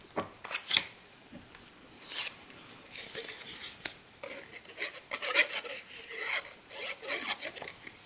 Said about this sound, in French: Vous pouvez découper des petits cercles comme ça avec les restes de papier nacré de chez Crafter Compagnon.